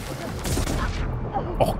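Gunfire and explosions crackle together in the action game Horizon Forbidden West, a dense, loud wash of shooting and blasts with a sharper burst near the end.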